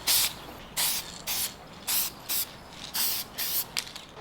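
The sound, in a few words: gold metallic lacquer being sprayed onto metal parts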